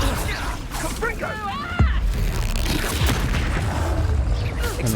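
Confringo blasting spell in Hogwarts Legacy, a sudden booming impact that cuts through ongoing combat noise, sweeping magical whooshes before it and a rumbling, crackling mix after, with a voice in the background.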